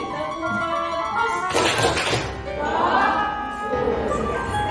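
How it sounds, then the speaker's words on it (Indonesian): Students in a classroom repeat a rhythmic focus clap: a short cluster of crisp claps sounds near the middle, surrounded by voices and room noise. "Sekali lagi, tepuk fokus."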